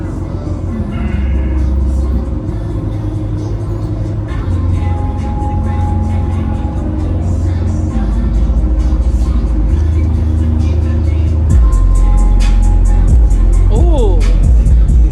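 Car audio subwoofers in a box at a car meet play loud, booming bass that rumbles continuously throughout, with people talking over it in the background.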